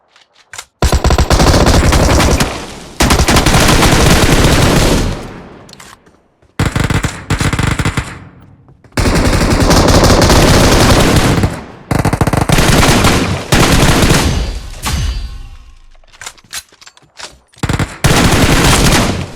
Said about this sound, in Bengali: ব্রো মেশিন গান রিলোড করতেছে